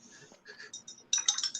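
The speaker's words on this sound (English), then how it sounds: "It's my brush in the water jar." Light, bright clinking and tinkling taps of a paintbrush rattling against a water jar, quick and close with faint voices beneath.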